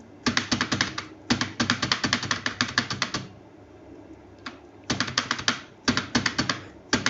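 Someone types a resume in MS Word on a computer keyboard, sharp close key clatters coming in quick bursts separated by short pauses, with no speech.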